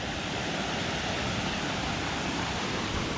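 A swollen stream rushes through the woods, a steady broadband wash of churning water heard alone, fairly distant and even, with no voices.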